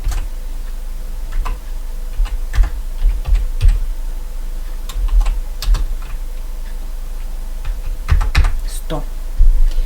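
Fast, irregular clicks of a computer keyboard being typed on at close range, sounding in short bursts over a low steady hum, with a voice talking faintly in the background.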